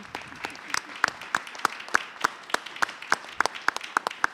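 A small audience at the Heading Home Celebration 2022 claps for Efrat: sparse, distinct hand claps in a fairly steady rhythm, moderately close, with faint background murmur between them.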